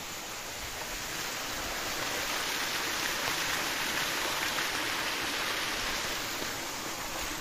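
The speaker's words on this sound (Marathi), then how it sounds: "तुम्ही पाण्याचा आवाज घेऊ शकता" Clear water flowing in an outdoor stream, a steady dense rushing wash of moderate loudness that stays even throughout with no talking.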